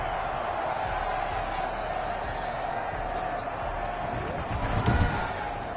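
A video game stadium crowd roars in reaction to a 55-yard field goal in an NFL football game, a steady dense wash of noise that swells briefly near the end, with a commentator talking over it.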